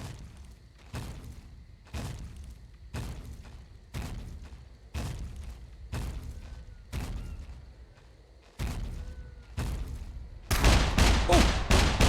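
Gunfire aimed at the player in the survival game SCUM: about ten loud, evenly spaced single shots crack out roughly a second apart, followed by a faster, louder burst at the end.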